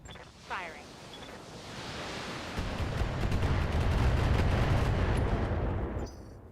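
Heavy mech weapons fire in BattleTech, a sustained roaring barrage of rumbling blasts that swells and holds for several seconds before cutting off, with a brief voice near the start.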